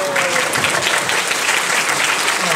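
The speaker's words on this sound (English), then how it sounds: "Another applause break" An audience at a film screening breaks into loud, dense applause that holds steady throughout, close and continuous with no gaps.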